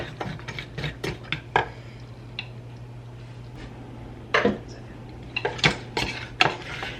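A spoon scrapes and clatters against a pan while stirring nuts toasting on the stove, in scattered sharp metallic clicks and rattles over a low steady hum.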